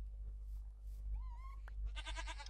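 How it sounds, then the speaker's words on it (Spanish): A Minecraft goat gives a single short, wavering bleat over a low steady hum, followed by a brief harsh, crunchy burst. "Que se come la cabra la madera ahí, a muerte."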